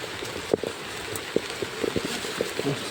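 Rain falls steadily along a rural road, a constant patter on surfaces with a few sharper drops and knocks standing out.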